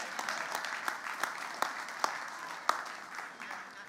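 A church congregation applauds in a scattered, moderately faint round of claps, with a few sharper individual claps standing out as it thins and a voice murmuring beneath.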